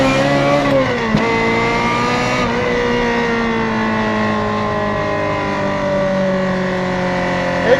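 A Ferrari F355 pulls hard through the gears on the freeway, its engine revving high and loud, with rising tones that drop at shifts before climbing again as the car accelerates.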